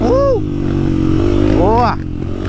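Motorcycle engine revving on a muddy trail, a steady loud drone with two rising, accelerating sweeps, heard up close with voices nearby.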